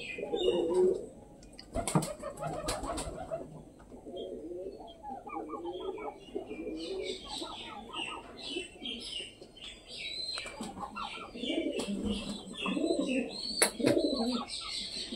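A young dove being hand-fed water coos softly and repeatedly at close range, with scattered chirps and light rustling in a quiet room.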